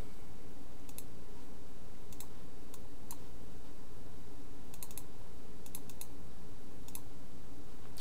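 Sharp computer clicks, mouse or keyboard, land in scattered bursts over a steady low hum while Bootstrap is being downloaded, some clicks single and some in quick pairs or triplets, close and fairly loud.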